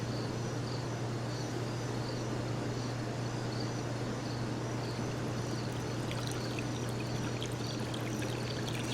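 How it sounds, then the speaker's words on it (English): A pool pump purges air as water pours and churns continuously, a dense, steady rushing and gurgling over a constant low motor hum, with no talking. "Filling right up from the pool. The pump is purging that air."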